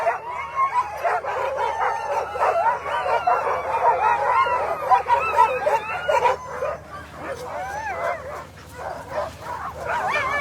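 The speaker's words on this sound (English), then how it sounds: "The Northern Whites. All Jim Lanier dogs." Sled dogs at the start of the Willow 300 mid-distance race bark, yip and howl continuously in a dense, excited chorus, with an announcer's voice over them.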